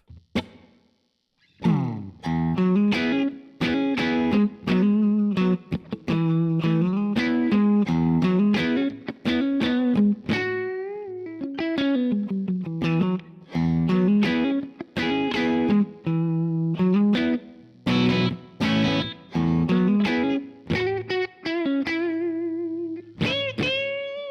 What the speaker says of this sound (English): here's a natural reverb that if you're not like a huge reverb guy and you just want a natural sound